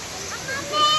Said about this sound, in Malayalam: നമ്മളിപ്പോൾ തൊമ്മൻകുത്ത് വാട്ടർഫോളിലാണ് നിൽക്കുന്നത്